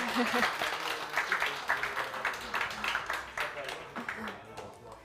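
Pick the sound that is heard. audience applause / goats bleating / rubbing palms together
audience applause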